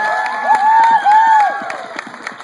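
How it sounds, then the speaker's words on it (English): A live audience at a drag comedy show cheers and applauds, with whoops and a sustained shout rising over the crowd noise. "Let's cheer for both Josh and John tonight."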